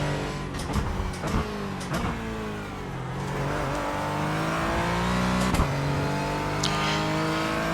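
In iRacing at Lime Rock Park, a Porsche 718 GT4 race car revs hard, with quick pitch dips at upshifts and sharp clicks early on, then settles into a steady, rising engine whine.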